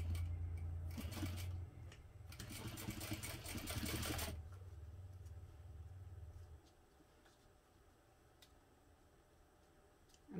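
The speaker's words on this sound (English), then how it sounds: "Now we're going to sew this using a quarter inch seam allowance." Sewing machine stitching a quarter inch seam with a shorter stitch length, running in a steady burst of about four seconds up close, then trailing into quiet.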